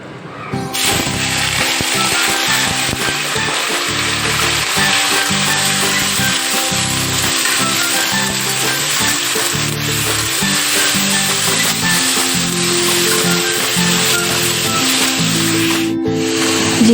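A spice paste of mustard, garlic, raw turmeric and onion with cumin and salt sizzles in a kadai, a loud steady frying hiss with intermittent stirring scrapes and no talking.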